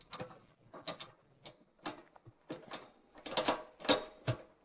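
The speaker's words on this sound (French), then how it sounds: "Je vais donc tirer le siège vers moi de quelques tours et dévisser celui-ci." A double swivel seat base in a VW T5/T6 van is turned by hand, producing a run of close mechanical clicks and ratcheting ticks in uneven bursts that grow denser toward the end.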